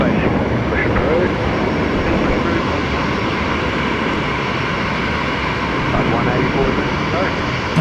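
Aircraft taxiing along the runway at Brisbane Airport, a broad, steady jet-engine roar that holds constant and loud across the whole stretch, with a voice talking over it.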